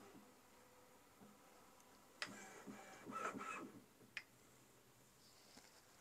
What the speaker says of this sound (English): It's making a few small noises as it prepares and gets ready to print.